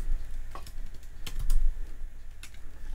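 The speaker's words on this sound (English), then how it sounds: "I'm going to type here" Keys clatter on a computer keyboard as code is entered, sparse clicks and short bursts of typing close by, with no talking over it.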